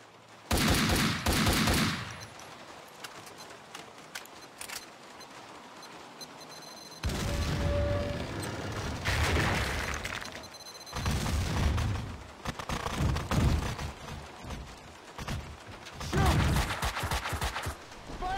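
Max Payne 2 gameplay fills with bursts of gunfire and booming explosions, loud clusters of shots and blasts alternating with quieter gaps between them.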